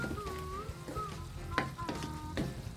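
Okra sautéed with ground meat in a pan, a soft steady sizzle under a whistling tone, with a few spoon scrapes and clacks at intervals, close and fairly quiet.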